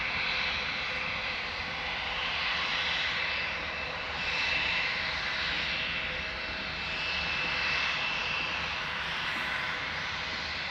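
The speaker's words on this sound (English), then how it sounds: "Vueling flight 8315 to Barcelona. This is a regular A320, 12 years old, first flight April 2013." A twelve-year-old Vueling Airbus A320, bound for Barcelona, departs Amsterdam Schiphol with a steady, loud jet engine roar and a faint whine on top. It swells gently at times and carries on with no talk.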